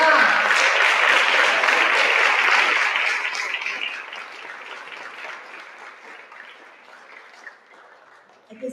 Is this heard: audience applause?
yes